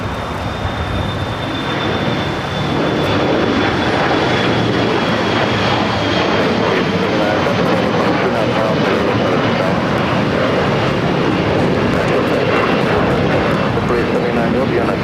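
A heavy airliner on runway 25 right at Los Angeles International Airport produces a loud, steady broadband jet roar that holds throughout, with a faint high whine above it and air traffic radio talk mixed in.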